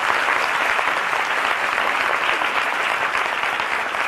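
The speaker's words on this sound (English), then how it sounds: "I just want to give you guys a round of applause for being honest enough to say this" Audience applause, a dense steady wash of clapping that holds evenly for the full few seconds.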